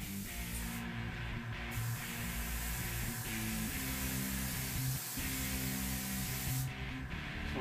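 Airbrush with a 0.05mm tip at 25 psi spraying Auto Air paint onto a Lamborghini, a steady soft hiss held for several seconds over a low electrical hum, with short gaps where the trigger eases off.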